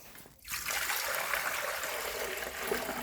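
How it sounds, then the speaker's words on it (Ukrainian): Water pours steadily into a metal pot set out for a family of turkeys in a farmyard, a continuous close trickling splash after a brief pause at the start, with no talking. "Ось воду зараз ми отако налємо їм"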